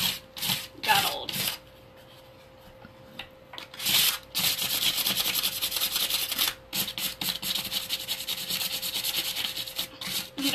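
Hand sanding of painted wood furniture with sandpaper, with short rubbing strokes at first and then long, steady, close scratchy passes that continue with only brief pauses.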